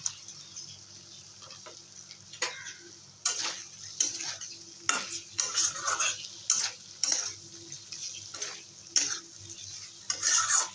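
Egg paneer pieces go into a pan of dhaba-style gravy and start cooking, giving a soft bubbling sizzle punctuated by sharp clinks and scrapes of a utensil against the pan, close and intermittent.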